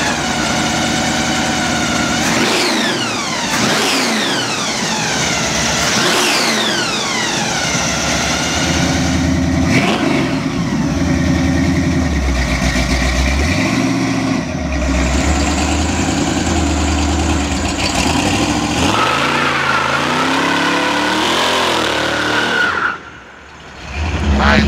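A supercharged 1948 Ford pickup blower engine revs loud and close, rising and falling repeatedly over a rough idle, with a brief dip near the end before it roars again.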